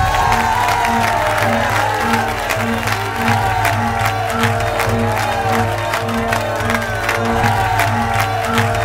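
A crowd at a band competition cheers, whoops and applauds loudly and continuously, with scattered shouts rising above the clapping.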